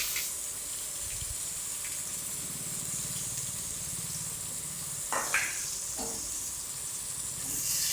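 Chopped onions sizzle steadily in hot oil with bay leaf, cardamom, cloves and cinnamon, a close, constant hiss with a few clinks of a utensil stirring the pan.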